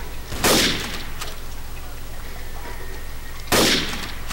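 Two loud, close gunshots go off in Trouble in Terrorist Town about three seconds apart, each a sharp blast with a short rumbling tail, over a steady low hum and no talking.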